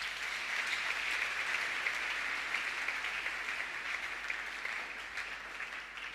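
A church congregation at a family worship service claps together, a dense steady roar of applause heard from a distance that holds throughout and fades slightly toward the end.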